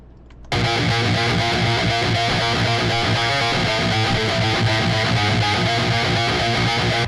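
An electric guitar played through overdrive with light distortion and a low-end tone setting. It starts abruptly after a short silence and continues as a loud, dense, steady stream of driven chords.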